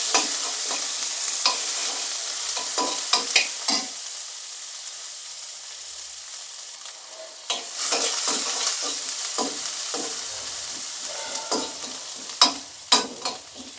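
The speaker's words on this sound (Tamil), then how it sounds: "சேர்த்து நல்லா வதக்கி எடுத்துக்கோங்க." Chopped onions with cumin sizzle in oil in a pan while a spatula stirs them, a continuous close frying hiss broken by repeated scraping strokes, no voices.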